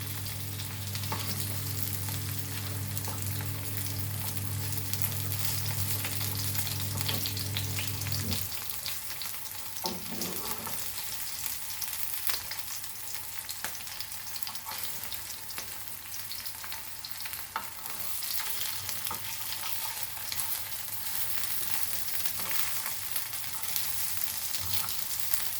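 Grey snapper coated in rava sizzles steadily in a frying pan for a crisp Goan pallu fish fry, a constant close crackle that runs throughout, with a low mechanical hum beneath it during the first third.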